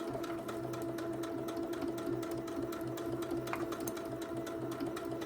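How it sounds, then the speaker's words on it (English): A sewing machine stitches through a quilted fabric pot, a steady close mechanical whirr with fine rapid clicking of the needle, continuous and even, with no talking. "this pot's a wee bit easier to sew on this arm of this machine"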